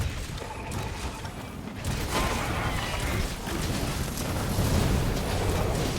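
Gunlance explosions strike a Tigrex in the Monster Hunter video game, a run of loud booming bursts and metallic mechanical clanks layered over dense in-game noise, with one sharp blast near the middle.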